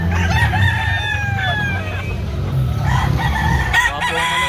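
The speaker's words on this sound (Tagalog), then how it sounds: "Yung mga manok nasa buyot." Roosters crow repeatedly alongside clucking chickens held in woven bayong bags at a Carbon market in Cebu, several overlapping calls close by over a busy background of crowd noise and passing traffic.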